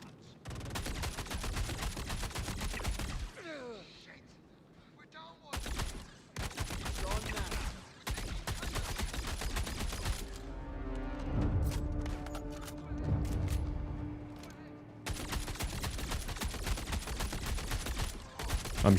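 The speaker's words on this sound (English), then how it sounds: "I'm shooting through my own shields right now." Sustained gunfire in the Star Citizen video game, long bursts of rapid automatic fire broken by short pauses, with ringing tonal effects and rumbling between volleys, loud and close throughout.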